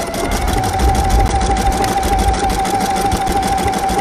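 A sewing machine stitches fabric in a continuous fast whirring run with rapid needle clatter and a steady motor hum, close and loud without talking.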